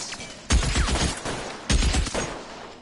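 Two loud bursts of rapid gunfire from the video game L.A. Noire, each a rattling volley of shots with a short echoing tail, separated by about a second.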